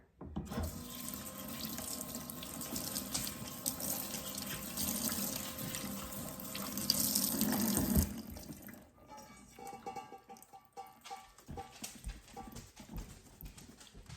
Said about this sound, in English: I'm gonna give these a nice clean rinse to get the rest of that starch off in cold water